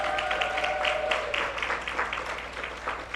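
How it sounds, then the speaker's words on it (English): Audience applause at a graduate scholarship awards ceremony, a dense, lively burst of many clapping hands with a brief tonal cry or whistle early on, steady and fairly loud throughout. "insert your applause and your screams at this time"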